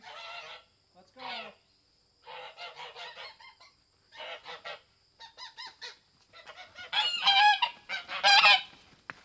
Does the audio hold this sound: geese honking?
yes